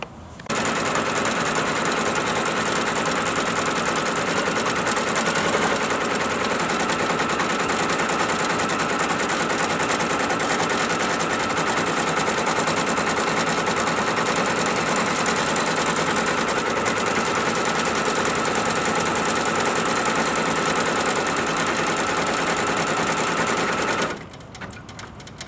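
A sewing machine stitches a quilt block held in an embroidery hoop, a dense, even, rapid whir running steadily for about twenty-four seconds before stopping abruptly.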